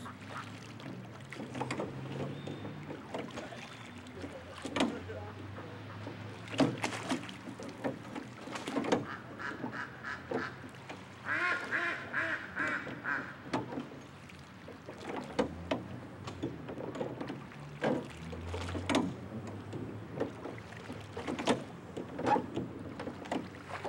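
Someone rows a rowboat across a pond in the historic Borda Garden in Cuernavaca, Mexico. Repeated oar strokes splash and knock at an irregular pace, with ducks quacking nearby and a soft outdoor wash behind.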